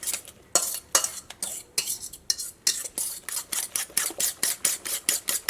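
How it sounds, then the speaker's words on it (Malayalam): A spoon stirs wheat vegetable dosa batter in a bowl, giving a steady run of wet scraping clinks against the side, quickening into a regular rhythmic beat, close and clear with no talk. "ഇതെല്ലാം കൂടിയിട്ട് നന്നായിട്ടൊന്ന് മിക്സ് ചെയ്യുക."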